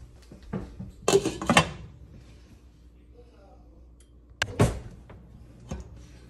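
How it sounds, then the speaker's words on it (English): A metal lid clanks onto a pot of simmering chili in a home kitchen, with a couple of sharp clatters early and another near the end, while someone talks quietly between them. "So now, I'm going to throw the lid on here and we're going to let it simmer."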